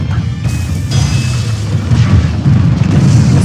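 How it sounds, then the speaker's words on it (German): A cannonball in Super Smash Bros Ultimate is lit and goes off as a loud, heavy boom, followed by a sustained rumbling roar that fills the whole stretch. "ich muss jetzt erstmal die Kanonenkugel zünden hier"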